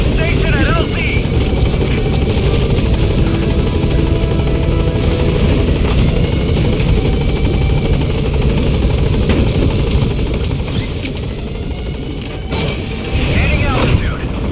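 A military helicopter sets down at a landing zone in Metal Gear Solid V: The Phantom Pain, its rotor and engine a loud, steady broadband roar that holds throughout, with a faint voice over it.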